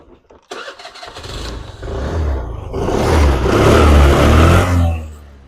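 A used scooter, a Mahindra Gusto or Yamaha Fascino 125, is started close by with a short crank and catch, and the engine then settles into a smooth, rising run.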